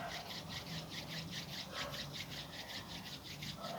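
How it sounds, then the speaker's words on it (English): Palms rubbed briskly together to build warmth, a soft rhythmic swishing friction repeating in quick strokes, close and quiet with no voices. "Rub your palms together to create heat."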